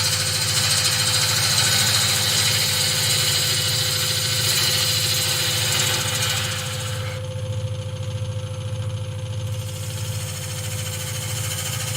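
A wood lathe turning a vase blank at about 800 RPM gives a steady, loud mechanical hum with a constant whine, and its broadband noise drops partway through as the motor keeps running.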